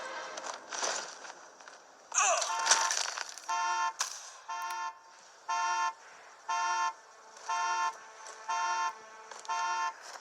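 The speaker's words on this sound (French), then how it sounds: "J'espère qu'ils vont pas trop faire attention au bruit que l'alarme fait." Car alarm going off in the Hitman video game, a loud electronic horn blaring in evenly spaced regular pulses about once per second, preceded by clattering impact and crunching noises.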